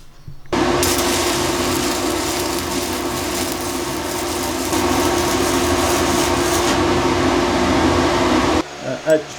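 Arc welding a bead with 7018 rod on a small welding machine while building a trailer mover, a loud, steady crackling hiss that runs evenly for about eight seconds and then stops abruptly.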